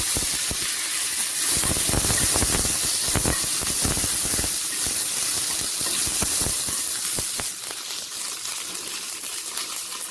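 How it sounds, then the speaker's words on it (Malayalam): Curry leaves and mustard seeds crackle in hot oil in a pan, giving a steady loud sizzling hiss dotted with many quick sharp pops. "കടുക് പൊട്ടുമ്പോൾ കറിവേപ്പില ചേർക്കാം."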